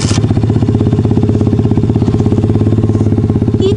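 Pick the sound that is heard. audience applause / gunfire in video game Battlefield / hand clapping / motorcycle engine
motorcycle engine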